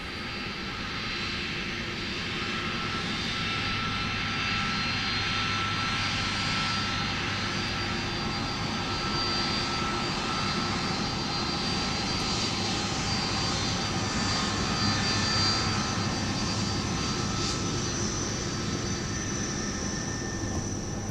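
A UPS cargo plane taxis past on taxiway Mike at Minneapolis–St. Paul airport, its steady jet engine roar loud and sustained throughout with no voices.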